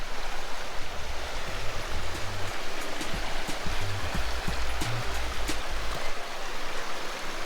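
Oak Creek near a red rock trail in Sedona, Arizona, a continuous close rush of flowing water with a broad steady roar, heard alone without talk.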